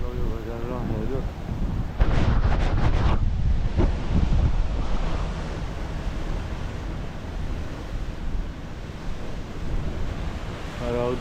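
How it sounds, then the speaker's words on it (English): Force 8 gale and two-metre waves on the Maltese coast at Migra l-Ferha: steady roaring wind buffets the microphone while surf crashes heavily, with a loud burst of wave impact early on and a voice speaking briefly. "This is what force 8 looks like, yeah, the wind. And 2 meter waves"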